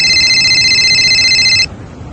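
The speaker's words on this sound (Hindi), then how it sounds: "अच्छा चलता फोन आ रहा है।" A telephone rings for an incoming call, a loud electronic bell tone that sounds steadily then cuts off, leaving quiet background hiss.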